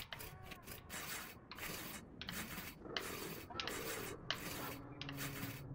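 Repeated rasping saw strokes cutting through a tree in the video game Brothers, each back-and-forth pull a steady scraping burst with short pauses between, close and fairly quiet.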